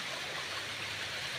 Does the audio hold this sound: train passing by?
no